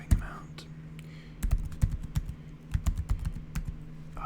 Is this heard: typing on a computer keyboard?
yes